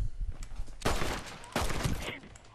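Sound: gunshot headshot in Red Dead video game

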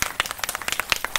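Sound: applause for flag hoisting

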